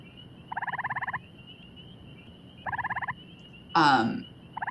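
Tree frogs give rapid, pulsing trills in short bursts, separated by pauses, with a louder harsh call near the end over a faint steady hum.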